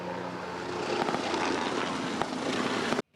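Military helicopters flying in a mock raid during an anti-takeover drill at Taoyuan airport, a steady loud rotor and engine roar that holds for about three seconds and then cuts off abruptly.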